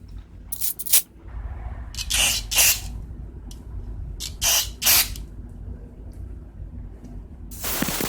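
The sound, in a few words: spraying aerosol carburetor cleaner on auger carburetor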